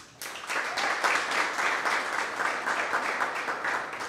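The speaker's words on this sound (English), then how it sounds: "And they do deserve a round of applause." A Pride storytelling event crowd bursts into applause for the sponsors, a loud, dense wash of clapping that starts abruptly and holds steady for several seconds.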